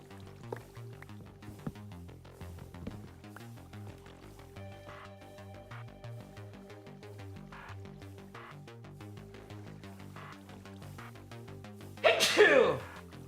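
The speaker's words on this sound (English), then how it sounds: "It kind of felt nice to sneeze" A single loud, close sneeze bursts out near the end, after a long stretch of steady game music.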